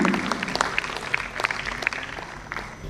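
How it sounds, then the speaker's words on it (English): Applause from a medical conference audience at NMOCON 2023, AIIMS Kalyani, for a speaker called to the stage: scattered, moderately faint clapping that carries on steadily for a few seconds. "Give a huge round of applause"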